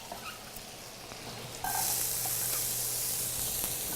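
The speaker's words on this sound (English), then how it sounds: "We're gonna add our onions." Onions tipped into a hot pan of olive or avocado oil set off a sudden, loud, steady sizzle that lasts to the end, following a quieter kitchen hum.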